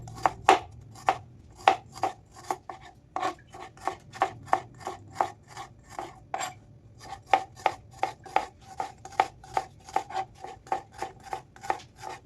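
Onions and green chillies being chopped on a board at home, with a steady run of crisp knife strikes, close and fairly even in rhythm, alone without talk.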